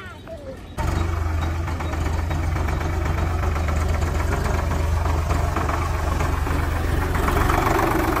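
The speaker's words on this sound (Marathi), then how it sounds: "तिकडे ट्रॅक्टर आला आहे" A tractor engine idles with a steady low rumble, near and loud, beginning after a short quieter moment; faint voices can be made out beneath the drone.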